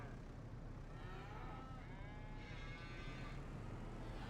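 Cows low in Farming Simulator 25 on an Irish farm, with drawn-out, wavering moos rising and falling over a steady rumbling background, moderately faint.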